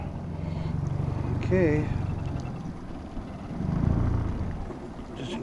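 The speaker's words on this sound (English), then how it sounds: "keep the motor going, keep your motor running" An outboard motor on a fishing boat on Great Bear Lake drones steadily close by, rising and falling slightly in level, while someone speaks briefly over it.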